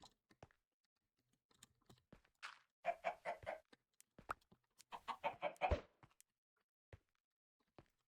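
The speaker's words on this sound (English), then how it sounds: "Chickens." Chickens in a video game cluck in a few short bursts of rapid clucks amid sparse clicks and taps, fairly quiet, with no talking.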